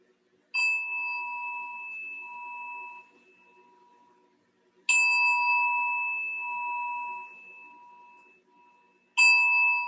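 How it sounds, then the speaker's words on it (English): A bright meditation-style bell for yoga practice is struck three times, each clear ring sustaining and slowly fading in a quiet room before the next strike. "I'll ring the bell 3 times to bring us into this moment of your practice."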